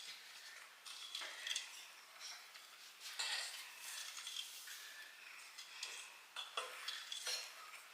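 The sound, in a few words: stirring brownie batter with eggs in a bowl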